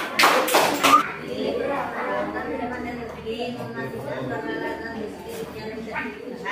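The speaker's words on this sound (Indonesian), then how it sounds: "Tepuk tangan buat kelompok 2." Children in an Indonesian primary school classroom give a short, loud burst of clapping for a student group, dying away after about a second, followed by a teacher's voice talking over faint room noise.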